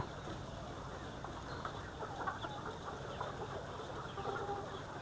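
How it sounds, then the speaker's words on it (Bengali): Soft, steady clucking from many layer hens in five-tier cages, a continuous low murmur of poultry with occasional louder calls, no talking. "অনেক সুন্দর মুরগিগুলো অনেক সুন্দরভাবে খাবার পানি খাচ্ছে"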